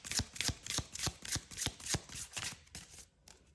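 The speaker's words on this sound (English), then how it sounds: "I pre-shuffle the Forager's Daughter, but just a couple of more shuffles here" Forager's Daughter tarot cards being shuffled, a rapid series of close, crisp riffling bursts in a steady rhythm, quieter toward the end.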